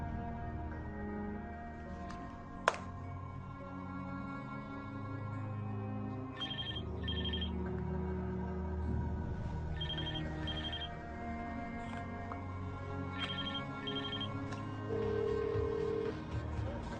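A telephone rings faintly in a TV movie scene: short double-burst rings come three times at regular intervals beneath a low, steady background.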